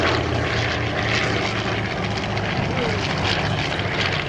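A B-25 Mitchell bomber at an airshow sends out a loud, steady, throaty drone from its propeller engines, close and continuous, with a faint voice barely under the roar.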